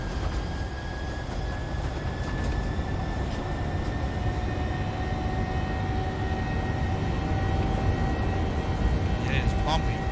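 Steady, loud Boeing 737 jet engine drone during a climb in the PMDG flight simulator, a continuous broadband roar with a faint steady whine above it.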